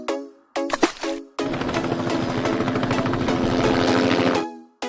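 A toy helicopter plays loud, busy electronic sound effects with rapid rhythmic chopping and clattering, starting in short bursts and then running steadily for about three seconds before stopping.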